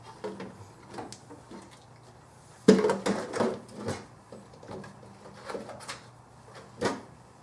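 Metal drawers of a heavy-duty Cobalt toolbox with liners slide and knock shut, a cluster of close, loud clunks and rattles in the middle, with lighter scattered bumps before and after.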